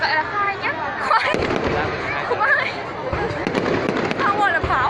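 Fireworks go off in a rapid, dense string of crackling bursts and bangs at a 2018 display in Điện Biên, loud and continuous, while people chatter and exclaim nearby throughout.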